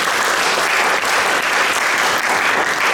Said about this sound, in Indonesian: Berikan tepuk tangan buat Tuhan kalau saudara belajar hari ini.